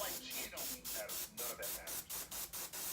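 Short bursts of spray paint hiss onto a custom Yeezy Boost 350 shoe, about a dozen quick, even puffs in steady rhythm, faint and close.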